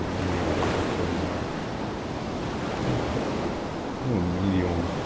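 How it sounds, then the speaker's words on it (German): Crashing ocean waves on a shoreline in the video game DayZ make a loud, steady broadband roar of surf with wind, continuous throughout, with a faint low engine-like hum at times. "man hört sehr laut den Sound der rauschenden Wellen"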